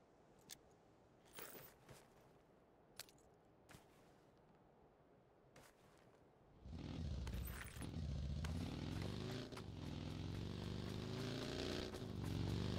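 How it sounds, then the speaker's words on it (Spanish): Motorcycle engine in the PUBG video game: a few faint clicks and taps in a quiet scene give way midway to a loud, droning engine that holds steady and close to the end. "Escucho una moto,"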